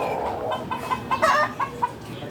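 Chickens cluck softly at dusk as they settle toward roosting in a tree, a cluster of close, repeated clucks and short calls over faint ambient noise.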